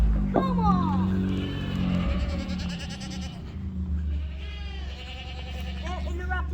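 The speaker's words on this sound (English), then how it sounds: "the cameraman said I had to look at the baby goat" Baby goat on a dairy farm bleating in quavering cries, close and fairly loud, with people talking over and around it throughout.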